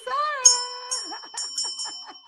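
A small bell rings several times in quick succession, bright and close, as a voice talks at the start and over the chimes.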